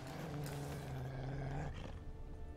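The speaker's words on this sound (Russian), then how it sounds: "Волк." A wolf in The Witcher 3: Blood and Wine gives a loud, sustained growling roar that holds steady for about two seconds and then cuts off, leaving quieter game ambience.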